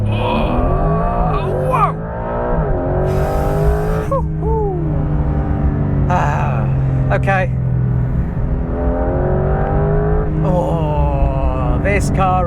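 A Porsche 911 GTS launches from a standstill and accelerates hard on an open road, its engine note climbing loudly through the revs in rising sweeps with brief shifts, heard from inside the car as a man exclaims over it.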